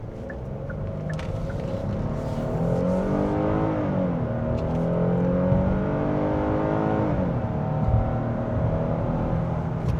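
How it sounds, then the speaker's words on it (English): A 2026 Hyundai Palisade XRT PRO V6 floored from inside the cabin, its engine note climbing through the revs, dipping at a gear change, then rising again as a steady droning growl, with no talking. "Yeah, the V6 does sound good though."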